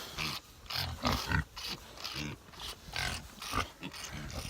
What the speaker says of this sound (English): This is the third pig that's now drinking water, so obviously it's working.